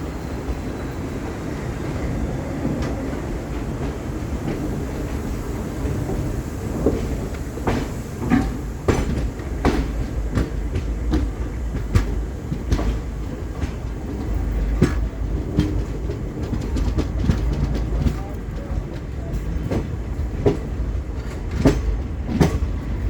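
The 12134 Mangaluru–Mumbai Superfast Express pulls out of Panvel station in early morning, heard from on board: a steady low rumble of rolling stock with irregular clanks and clicks of wheels over track joints.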